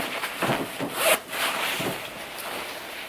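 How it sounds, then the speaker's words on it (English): A few short rasping zips, close and fairly loud, like a small discreet zipper on a Chanel ready-to-wear garment being pulled open in quick strokes. "There's like a little discreet zipper here"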